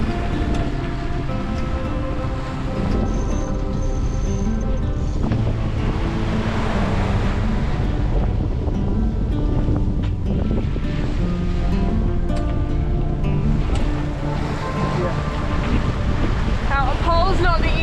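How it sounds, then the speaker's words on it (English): Strong wind at sea behind a sailing boat roars loud and constant across the microphone, with the wash of waves underneath and no break for the whole stretch. "The wind has crept up behind us"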